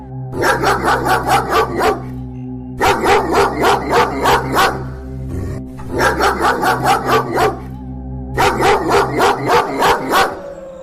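A dog barks in four rapid bursts of repeated woofs, loud and close, with brief pauses between each volley.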